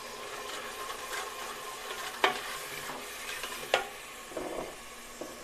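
Tomatoes fry in a pan with salt, chili and cumin for a masoor dal, giving a continuous soft sizzle broken by a few sharp stirring scrapes and clacks, heard close and alone.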